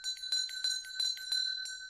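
Hand-held ritual bell (ghanta) ringing in a Hindu Mahashivaratri setting, a bright metallic ring struck in quick repeated strokes with a sustained shimmering tone between them, clear and close.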